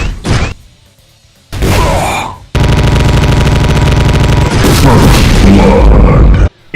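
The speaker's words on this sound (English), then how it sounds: "And the heavy railgun shots." Heavy railgun blasts from a Mastermind in a Doom mod, very loud: a short opening shot, then a sustained booming, buzzing discharge that lasts several seconds and cuts off abruptly.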